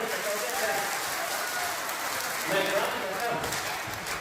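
An audience at a Hindi poetry gathering, a Dainik Jagran kavi sammelan in Sitapur, claps in a steady, somewhat distant rain-like patter for the whole stretch, with a voice talking over it.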